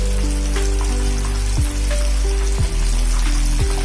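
Popcorn chicken frying in hot oil gives a loud, continuous sizzle with scattered crackles and a few sharper pops, heard up close with no talking.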